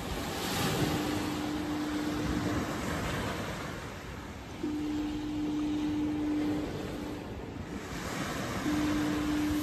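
Northeasterly wind of about 7–8 mph blowing down Pakefield Beach, Lowestoft, on a foggy morning: steady broadband rush and buffeting against the microphone, blended with surf washing in continuously, and a faint thin tone now and then.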